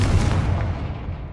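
A Confringo blasting spell bursts in Hogwarts Legacy, a loud, deep explosive boom that rolls away and fades over about a second.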